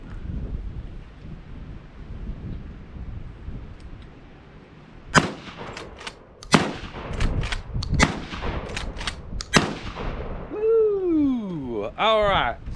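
Black Aces Tactical 12 gauge lever shotgun firing birdshot outdoors at clays, several sharp loud reports spaced a second or two apart over light wind, with people talking and exclaiming near the end.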